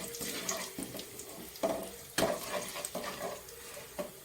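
Whole chillies, crushed garam masala, bay leaf and cumin seeds fry in hot oil, giving a soft steady sizzle with intermittent stirring scrapes and clicks, quiet and close.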